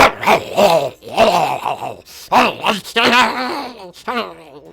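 A voice imitates a deep, throaty creature bark for a Dungeons & Dragons game, making a series of growling, rasping bursts in uneven rhythm, close and loud, with no ordinary speech between them.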